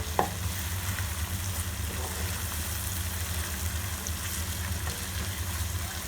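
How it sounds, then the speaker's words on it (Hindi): Chicken frying in a pan with garlic ginger paste while being stirred, a steady dense sizzle with occasional scraping clicks, close and continuous. "अच्छी तरह से हम मिक्स कर लेंगे और इसको लहसुन अदरक के पेस्ट के साथ फ्राई करेंगे"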